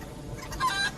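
A chicken clucks in Crysis Remastered, a short burst of a few quick, mid-loud clucks over faint game ambience.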